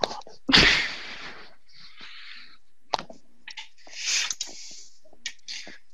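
A person blows their nose in a few loud, breathy honks and snorts, with shorter sniffs and bursts following, in a room during a casual conversation about airsoft mechanics.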